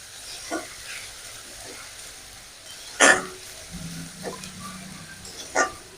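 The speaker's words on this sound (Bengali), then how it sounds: "টমেটো বাটা এটাও নেড়ে চেড়ে দু মিনিট মিশিয়ে নেবো" Tomato paste stirred and fried in a pan for a Bengali moong dal with banana flower, quiet sizzling broken by scattered spatula scrapes and a few sharp clacks.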